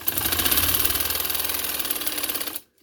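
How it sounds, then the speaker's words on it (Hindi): A sewing machine stitches a pleated blouse in a fast, even mechanical chatter, loud and close, running steadily before stopping abruptly near the end. "पिन्ने हमने बाद में उतारनी है, पहले इसकी सिलाई लगा के।"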